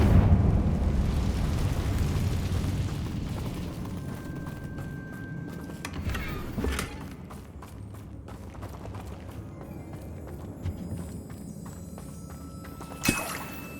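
A Confringo fire spell goes off in Hogwarts Legacy, a rumbling blast with a sharp crackling burst near the middle and another sudden bang near the end over a steady low game ambience.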